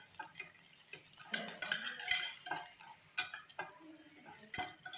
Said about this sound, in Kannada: ಈಗ ಬರೀ ಉಳ್ಳಾಗಡ್ಡಿ, ಕರಿಬೇವು, ಕೊತ್ತಂಬರಿನ ಹಾಕ್ಕೊಂಡು ನೀಟಾಗಿ ಬೇಯಿಸ್ಕೊಂಡಿದ್ದೀನಿ